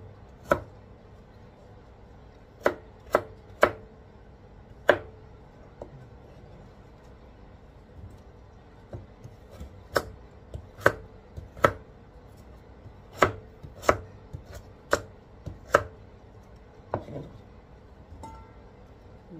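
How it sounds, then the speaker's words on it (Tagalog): A knife slices ingredients on a cutting board for binignit, a Filipino sweet stew, with about twenty sharp, crisp chops in irregular clusters against a quiet kitchen background. "ating unang slice para ito yung una nating ilagay doon sa pinakulo natin"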